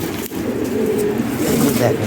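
Breeding Lahori Sherazi pigeons cooing up close, continuous low rolling coos filling the short stretch, with a person talking over them.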